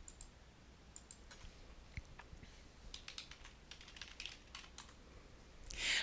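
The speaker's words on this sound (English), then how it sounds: "if I were to type something in cell B4" Fingers type on a computer keyboard while entering text into a spreadsheet cell, producing a soft, uneven run of close key clicks that builds into quicker bursts toward the end.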